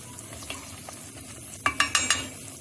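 Okra simmering in a pot with lemon juice squeezed over it, a soft steady bubbling under a low hiss, then a short run of four or five clinking scrapes as the pot is stirred near the end.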